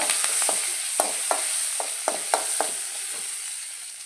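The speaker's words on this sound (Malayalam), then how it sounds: "കുറച്ച് മുളക് പൊടി ഇടുക അതുപോലെ ഒന്ന് ഇളക്കി കൊടുക്കുക" Chilli powder is stirred into a dish in a pan for a chutney, with a run of sharp spoon scrapes and taps over a faint steady hiss that fades toward the end; no speech.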